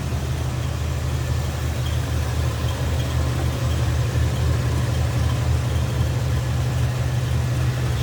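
A 1985 Buick LeSabre Limited Collectors Edition engine idles smoothly, a steady low rumble with a faint hiss, constant and close with no voices.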